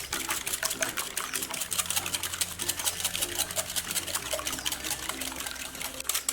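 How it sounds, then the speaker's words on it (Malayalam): Cake batter for a pressure cooker cake being beaten hard by hand at high speed, a fast, steady, rapid clatter of whisk against bowl running continuously and close throughout, with no talk. "കൈ എടുക്കാതെ ഇതുപോലെ ബീറ്റ് ചെയ്യണം."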